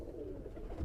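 Pigeon of a Kital bloodline cooing softly and close, a low, steady murmur running the whole short moment.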